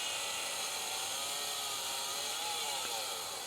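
A chainsaw plunge-cuts a dovetail mortise into wood, its engine whining at a steady high pitch throughout, fairly faint and continuous with no talk over it.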